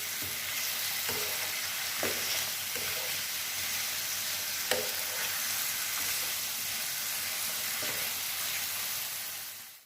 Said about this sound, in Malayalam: ഇത് കുക്ക് ചെയ്യുമ്പോൾ ശ്രദ്ധിക്കേണ്ട കാര്യം എന്താ വെച്ചാൽ നമ്മൾ ഹൈ ഫ്ലെയിമിൽ വേണം കുക്ക് ചെയ്യാൻ